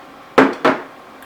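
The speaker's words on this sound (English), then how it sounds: "I'm gonna grab a spoon just so I can get some of this yummy sauce in there." A metal spoon scooping sauce from a pan of creamed spinach gives two quick, close clinks a fraction of a second apart against a quiet background.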